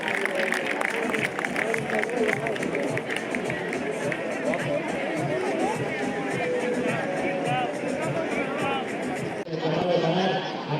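Large crowd at a Bous bull festival in Borriana bursts into loud, sustained applause and cheering, mixed with shouting voices and busy crowd noise throughout.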